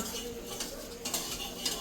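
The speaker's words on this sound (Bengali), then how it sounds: "এটা হচ্ছে গিয়ে ডিম ভাজা" Eggs frying in a pan in a home kitchen at night, with a steady close sizzle under repeated scraping and clinking of a utensil stirring against the pan.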